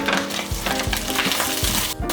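Garlic sizzling in a pan over medium heat, a steady bright crackle and hiss, close and loud, with a few soft pops and scrapes of stirring.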